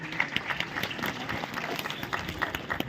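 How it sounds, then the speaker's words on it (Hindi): An audience at a Hindi comic poetry gathering claps to welcome a young poet, a fairly faint, dense patter of many hands with scattered louder claps, steady throughout with no speech on top. "आप आशीष भरी तालियों के साथ उसका स्वागत करें।"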